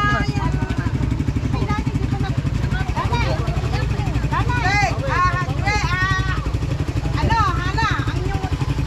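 Several motorcycles idle and rev nearby with a steady low engine rumble, while people talk loudly over them.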